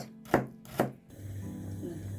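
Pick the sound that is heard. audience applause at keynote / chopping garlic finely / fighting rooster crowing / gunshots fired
chopping garlic finely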